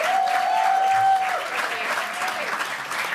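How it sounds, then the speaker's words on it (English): A room audience at a student presidential debate applauds the candidates, dense steady clapping that holds loud for about three seconds, with a faint tone running through the first second. "Let's give our candidates a big round of applause"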